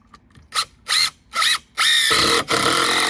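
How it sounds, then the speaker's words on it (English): A power drill drives GRK screws into a stone skirting panel on a manufactured home: several short whirring bursts, then a longer sustained run, close and loud with no talk. "we countersink those screws just a bit"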